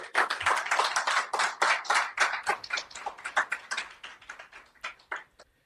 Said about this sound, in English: Would you give them an applause, please?